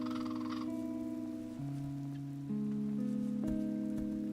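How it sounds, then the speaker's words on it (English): Steady rain pours down in the video game Vintage Story, a constant soft hiss that runs under sustained in-game music tones throughout. "Just rainy."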